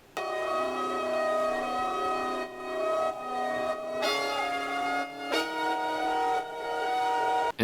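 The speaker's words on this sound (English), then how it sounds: "I just froze the Imagero pad and I just pitched it up a lot." A frozen Imagero synth pad pitched up high, a bright sustained shimmer of stacked tones that holds steady and loud, with a couple of shifts in texture along the way.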